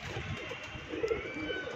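A hobbyist's pet pigeon coos softly in a few low, rolling calls, faint and close against a quiet room background with no talking.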